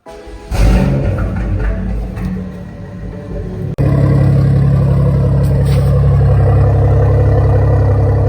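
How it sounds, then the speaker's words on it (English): A BMW M340 engine turns over and fires, then settles into a loud, steady, close idle rumble that continues to the end. "Let's get the car started up."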